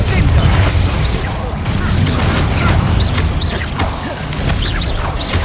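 Confringo blasting spell explosions in Hogwarts Legacy, heavy booming bursts running through a loud, continuous wall of combat noise that never lets up.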